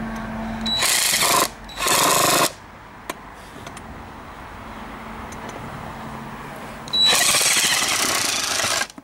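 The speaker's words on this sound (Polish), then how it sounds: "No i Irek próbuje pneumatem to odkręcić." A pneumatic impact wrench works at a stuck bolt on an old bench vise in three loud, harsh bursts of about a second each, with quieter shop noise and small knocks between them.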